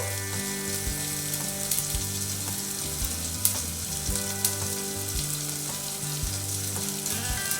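Food sizzles and fries steadily in a pan as salt goes in for a Navratri prasadam dish, a close, continuous crackle with occasional louder pops and no talking.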